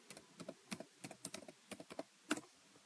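Keys clack on a computer keyboard in short, uneven bursts of close individual taps. A pause comes just before the end, and the room is otherwise quiet.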